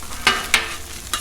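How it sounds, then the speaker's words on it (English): Green onion is stirred into ground beef frying in a pan, with three quick scraping strokes of a utensil over a low continuous sizzle. "I'm gonna add the green onion."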